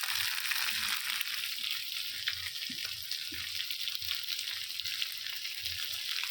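Mustard seeds tempering in hot oil in a pan holding fried puti fish, a faint, even sizzle with soft low knocks scattered throughout.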